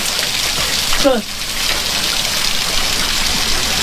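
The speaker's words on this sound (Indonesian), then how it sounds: "Ini nggak ada keran ya. Terus airnya ngalir." Water running steadily in a small village bathroom with no tap, a continuous close gush that briefly drops and swells, with a short voiced sound partway through.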